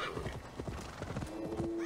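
Rapid hoofbeats of a galloping horse in Assassin's Creed Valhalla, a quick rhythmic clip-clop close by, with a brief tonal whinny-like sound near the end.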